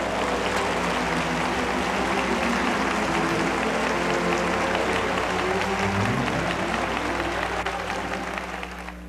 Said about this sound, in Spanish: Oh, vamos, denle una ofrenda de aplauso.